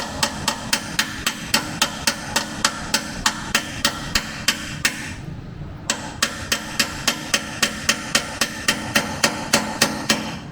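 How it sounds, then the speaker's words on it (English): Steady hammer blows pound a diff brace sleeve into a car's rear subframe, about two to three strikes per second, loud and close, with a short pause midway before the metallic rhythm resumes. "It takes a pretty good little bit of pounding with the hammer to get that to seat in there."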